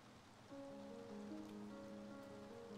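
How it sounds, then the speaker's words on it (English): Steady rain patter in the farming video game Staxel, a soft continuous hiss that swells slightly after the first half second, with faint tonal game music running underneath and no talking. "It's raining outside!"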